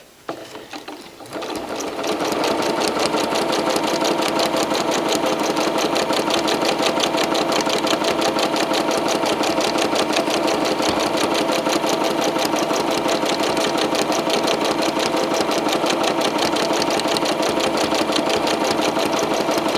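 A sewing machine doing free motion quilting runs in a fast, steady, continuous whir of rapid needle strokes, starting after a brief quiet moment and staying loud and even throughout, with no talking.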